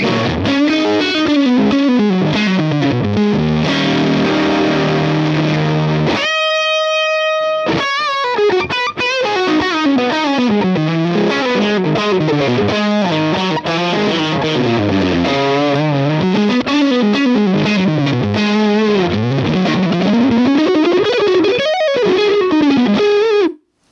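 An electric guitar plays a vintage-style lead through a Helix Gibson EH185 amp model with heavy delay and reverb: sustained, lightly driven melodic lines with echoing tails, loud and alone, with one brief pause partway through.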